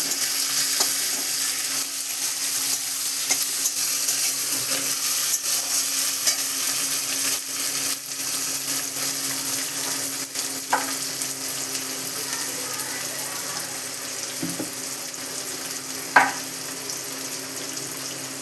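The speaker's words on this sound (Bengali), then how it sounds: "পেঁয়াজটা ভাজা হয়ে গেছে, দিয়ে দিলাম এর মধ্যে টমেটো কুচিগুলো।" Chopped tomatoes go into onions that are already fried, giving a steady, loud sizzle with occasional stirring scrapes. A couple of brief clinks sound near the end, and there is no talking.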